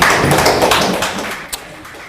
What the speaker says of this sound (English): Applause afterwards as you got the word from the judge today.